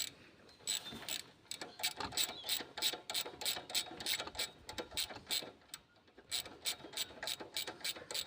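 A ratchet clicks in rapid repeated bursts while bracket bolts are tightened on a car engine during an alternator change, close and fairly quiet, with short pauses between strokes and no talking.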